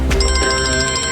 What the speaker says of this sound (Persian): تو برو موبایل جواب بده